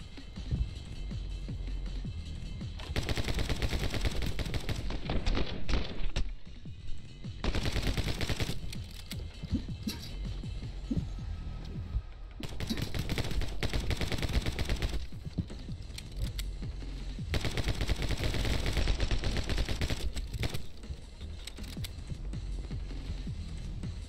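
Uzi fire in My Friend Pedro comes in several long, rapid automatic bursts of loud, crackling gunfire, separated by short pauses and layered over game background noise.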